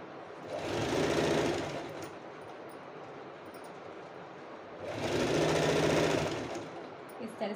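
A sewing machine runs in two separate bursts of about a second and a half each, stitching a double-folded fabric strip onto a blouse, with a quiet gap between the runs.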